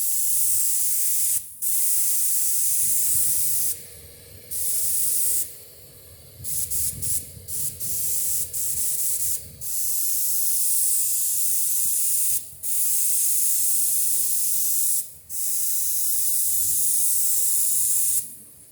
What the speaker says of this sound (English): Again, we're spraying at about 30 psi.